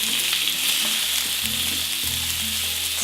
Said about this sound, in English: lamb knuckle and brown it well all over